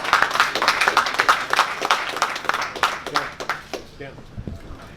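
At a boxing post-fight press conference, scattered applause of several hands rattles for a few seconds under someone speaking, then fades to quieter murmur toward the end.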